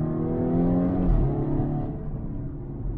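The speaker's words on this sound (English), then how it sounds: "I can also hear the turbo noise, which sounds phenomenal." A VW Golf 6 R accelerating hard from inside, its engine note climbing through a gear change with turbo whoosh audible, loud and continuous throughout.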